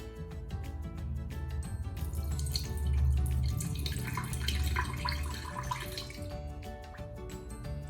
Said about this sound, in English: So now we are going to put into our jar. I'm going to pour it.